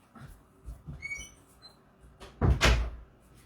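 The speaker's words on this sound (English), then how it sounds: "I meant to close the door before I started" A door swings closed indoors with a squeaky creak and a firm thump near the end, close by, after quieter shuffling and faint chirpy squeaks.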